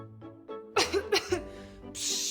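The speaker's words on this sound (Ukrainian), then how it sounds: "Кашель" A few sharp, harsh bursts like coughing, close and loud, followed by a breathy hiss.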